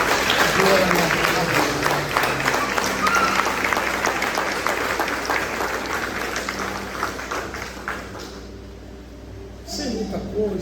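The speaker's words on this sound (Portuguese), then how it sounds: "quem puder aplaudir ao Senhor" Congregation at a church couples' gathering applauding in praise, sustained dense clapping from many hands that fades toward the end, with voices heard over it.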